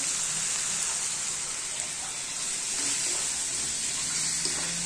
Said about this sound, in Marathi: आपण आता कांदा लालसर करून घेतोय।